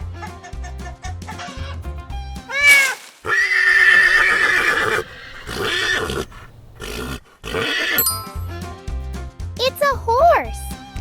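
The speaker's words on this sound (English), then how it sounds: "Horses neigh to talk to friends across the farm." A horse on a farm neighs in several loud whinnies, mixed with clucking fowl and a rooster, while a child-like voice speaks between the calls.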